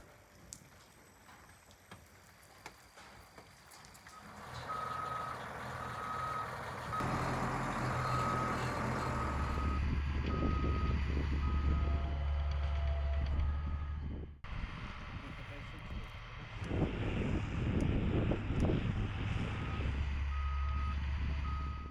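A mechanized demining machine working a field in the Donetsk region in winter rumbles with a heavy diesel engine that grows louder, while a steady reversing beep pulses throughout.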